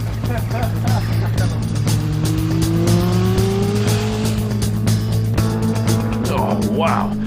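Mini fitted with a Yamaha R1 motorcycle engine accelerating hard, a loud, high-pitched engine note climbing and shifting through gears, recorded from inside the car with a steady low drone and brief tyre noise.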